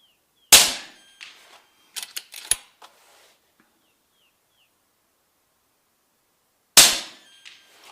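An RTI Prophet II .30 caliber air rifle fires two sharp, loud cracks about six seconds apart, each followed by brief metallic clicks and pellet impacts, with near silence between.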